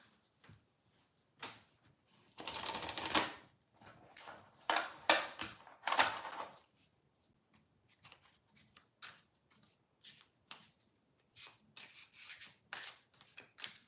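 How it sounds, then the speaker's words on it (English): Tarot cards are shuffled by hand nearby, with bursts of papery riffling and rubbing followed by lighter, scattered flicks and taps. "I'm going to shuffle the cards."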